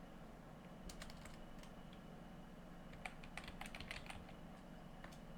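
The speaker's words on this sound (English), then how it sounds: "type in google.com, do a slash, and type in references" Someone types on a computer keyboard at a desk, producing faint, quick clusters of light key clicks in two short bursts against a low background hum.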